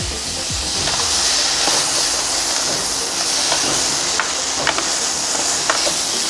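Fish roe, bitter gourd and potatoes fry in hot oil while being stirred, giving a steady, loud sizzle with occasional scraping clicks of a utensil against the pan.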